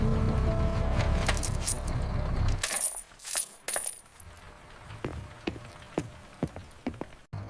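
Coins drop and clatter as a fare payment, a rush of jingling followed by sparse, distinct metallic clinks, with a steady rumbling background at first that then quiets.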